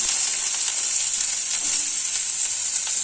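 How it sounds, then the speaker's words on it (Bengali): Chopped onion frying in hot white oil for a momo filling, a steady bright hiss of sizzling that stays constant and close throughout, with no talking. "তেলটা গরম করে নিই যেটা পেঁয়াজ কুচি দিয়ে দিলাম"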